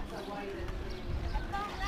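Donkeys walk along a street in Oatman, Arizona, during a motorcycle rally; their hooves clip-clop unevenly under people talking nearby and a steady crowd bustle.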